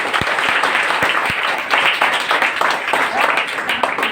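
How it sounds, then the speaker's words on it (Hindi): An audience at a motivational talk breaks into sustained, dense applause that fills the room, with a few louder individual claps near the front. "करेक्ट, एक्सीलेंट, तालियां बजाइए एक बार।"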